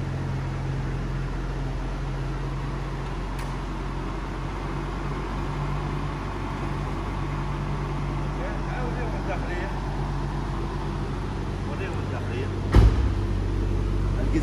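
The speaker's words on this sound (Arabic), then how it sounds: "شغل السيارة" A 1986 Toyota MR2 MK1 engine runs at a steady idle, its low, even hum continuing throughout with a brief sharp knock near the end, while people talk nearby.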